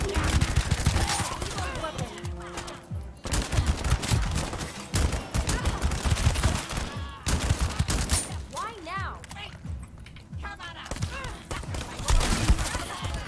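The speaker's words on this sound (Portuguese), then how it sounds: "Caçadeira." Rapid loud gunfire from a shotgun in the shooter game The First Descendant, bursts of blasts and impacts with brief gaps, and a voice briefly speaking over the action.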